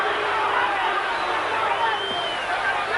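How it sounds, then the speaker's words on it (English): A crowd at a 1987 Mike Tyson vs James Smith heavyweight boxing match boos and roars in a dense, continuous wash of voices that holds steady for the full stretch. "And some booing coming from the crowd."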